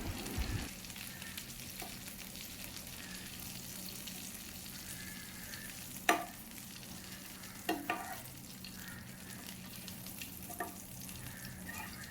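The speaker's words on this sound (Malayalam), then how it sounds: "ഇതും നല്ലപോലെ മുരിഞ്ഞു വന്നിട്ടുണ്ട്. നമുക്ക് അതിനെയും കോരി മാറ്റാം." Chicken pieces for Kerala-style chicken kondattam deep frying in hot oil, a steady low sizzle with a few sharp clinks and scrapes of a ladle near the middle and end, no voices.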